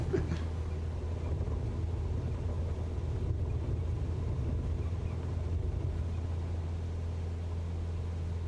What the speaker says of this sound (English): It's so satisfying feeling the plane lift off.